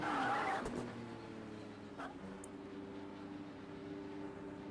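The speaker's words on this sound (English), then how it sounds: "we're going to pull into our pit box right here" A racing car in Project Cars 2 rolls onto pit road with its pit limiter engaged, giving a steady, moderate engine drone with a brief tire scrub near the start and no talk over it.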